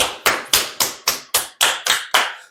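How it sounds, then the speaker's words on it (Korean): About eight sharp hand claps come in a steady, evenly spaced rhythm, loud and close, celebrating a first online order for a Taobao purchasing-agent business. No one speaks over them. "박수!"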